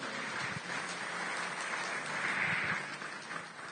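Congregation clapping and cheering through a church service, a dense, steady wash of applause that holds at an even level for several seconds without letting up.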